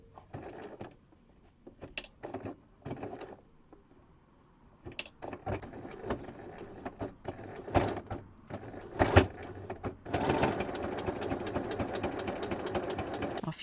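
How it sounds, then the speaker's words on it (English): A sewing machine needle labours through thick layers of shirt fabric in scattered, uneven mechanical clacks and short whirring bursts, quiet at first and then building into a denser, louder run of stitching near the end. "You can hear how my needle's struggling to get through all those layers of fabric."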